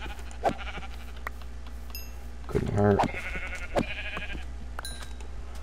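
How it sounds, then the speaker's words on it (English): Minecraft sheep bleat in a survival island game world, a couple of short quavering bleats, one loud and close, over steady background ambience while someone says a few words. "We're actually going to go kill some sheep to get some wool."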